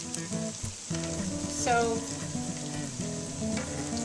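Latkes fry in oil in an electric fry pan, a steady close sizzle and crackle running throughout while a voice talks over it.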